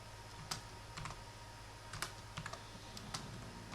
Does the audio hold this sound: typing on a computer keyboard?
yes